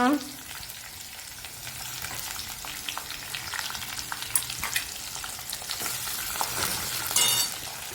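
Green chillies fry in a pan with ginger for upit, a steady close crackling sizzle running throughout with scattered pops and occasional stirring scrapes.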